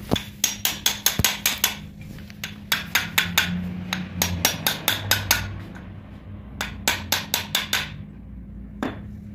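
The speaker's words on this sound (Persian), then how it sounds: "شفت هم سعی کنید دور تا دور بلبلینگ ضربه بزنید تا بخوابه کف." A hammer taps a bearing down onto the shaft of a six-bolt Peugeot 206 hydraulic pump during assembly. Sharp metallic strikes come close and loud in quick bursts, with short pauses between the runs.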